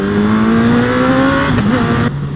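A Lexmoto ZSX-F motorcycle engine screams at full throttle, loud and steady, its pitch climbing before dropping sharply near the end.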